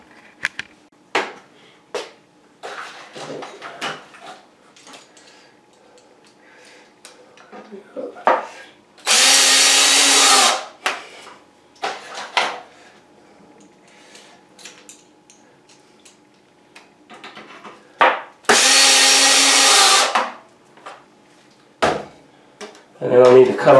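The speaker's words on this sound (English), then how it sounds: "So I'm going to attach it with two drywall screws." A power drill drives drywall screws into a ceiling rafter in two loud, close bursts of a few seconds each, with handling knocks and clatter between them.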